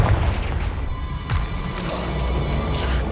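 A Confringo spell detonates in Hogwarts Legacy: a heavy, booming blast with a deep rumbling tail and scattered crackling debris, followed by a second smaller thump as the noise settles.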